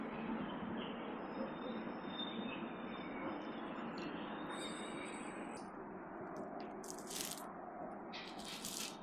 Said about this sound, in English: You can see some train departing. It's some kind of cargo.